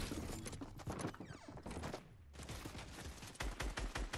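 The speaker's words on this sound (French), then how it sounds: "Il tire la PM de là." Submachine gun fire in the Fortnite battle royale game rattles in dense rapid bursts, a brief lull midway, then more loud shots close by.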